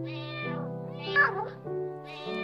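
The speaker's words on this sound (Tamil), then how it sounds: "பூனை ஒன்று" A cat lets out drawn-out, tonal meows one after another, loud and close, with one rising, wavering cry in the middle.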